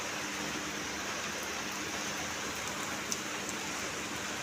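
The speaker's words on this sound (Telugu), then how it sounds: "వానం చూస్తున్నావా?" Steady rain falls close by as an even, dense hiss with scattered droplet ticks, continuous and fairly loud, with no voices over it.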